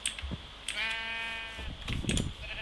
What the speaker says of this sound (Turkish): Aha bir tane daha renkli koyun buldum